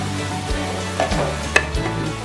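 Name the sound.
stirring ribs with paprika in a sizzling pan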